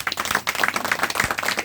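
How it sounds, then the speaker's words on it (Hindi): An audience at a DXN business seminar claps loudly, a quick, uneven burst of many hands slapping together in a lively rhythm, with a faint voice briefly audible underneath. "जोरदार ताली होना चाहिए"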